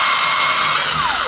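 Power drill with a 4 mm bit spinning at steady high speed as it widens stripped screw holes in a cabinet door hinge mount, a continuous close whine with a slowly falling pitch near the end.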